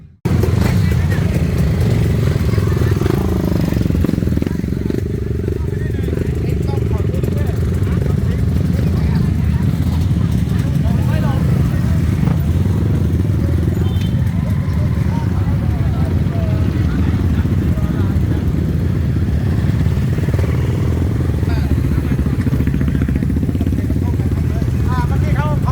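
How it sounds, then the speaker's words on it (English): A crowd of roughly 400 to 500 enduro motorcycles idles and revs at a race start in Thailand, a dense continuous engine roar with some chatter from onlookers mixed in, steady and loud throughout. "There's about 400, 500 bikes up here."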